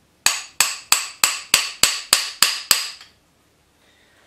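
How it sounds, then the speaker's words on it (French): A hammer strikes a flaring tool seated in copper tube to form a 45-degree flare, nine sharp metallic blows in an even, quick rhythm, close and loud, then silence. "avec mon marteau à garnir, je vais venir taper dessus."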